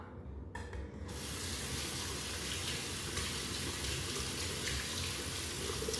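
A running tap splashing into a sink while face scrub is rinsed off, a brief quieter start then steady, even water flow close by.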